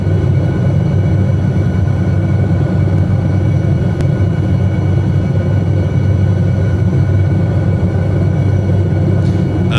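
SA315B Lama helicopter flying over Lofoten, Norway in Microsoft Flight Simulator, a steady loud low rumble of engine and rotor droning continuously throughout with no talk.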